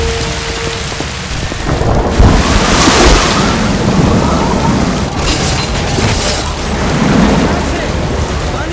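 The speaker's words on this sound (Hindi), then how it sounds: "पानी का बहाव बहुत तेज है," Rushing floodwater of the Sirsa river, a loud steady roar of churning water with heavy low rumble and broadband hiss throughout, swelling at moments, with no clear speech.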